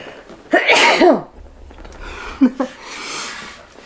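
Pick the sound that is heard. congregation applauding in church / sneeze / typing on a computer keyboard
sneeze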